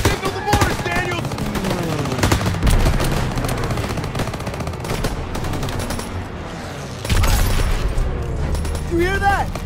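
Call of Duty WWII battlefield machine gun fire rattles in sustained, dense bursts among booms and chaos, loud and close, with shouting voices mixed in.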